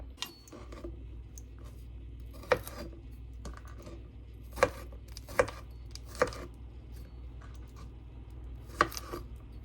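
A knife minces garlic on a cutting board with sparse, irregular taps and a few sharper chops. The sound is quiet and close against a low background hum.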